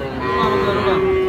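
A single long, drawn-out moo from cattle at a livestock market, loud and close against a murmuring background.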